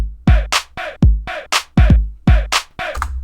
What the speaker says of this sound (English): Together, the full drum loop sounds like this.